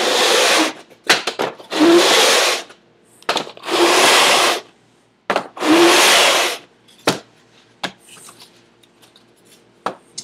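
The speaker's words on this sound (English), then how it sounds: "So this is just a chunk of sandpaper glued to a sheet of plywood." Wood for a piccolo guitar rubbed across sandpaper glued to a plywood sheet, in three long, loud rasping strokes mixed with shorter scuffs and knocks, close up with no talking.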